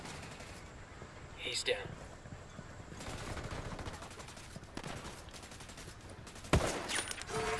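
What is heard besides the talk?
gunfire in the video game Ghost Recon Wildlands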